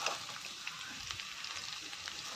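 Potatoes frying in oil over a high gas flame with cumin, a steady, close sizzle with soft crackles throughout and no talking.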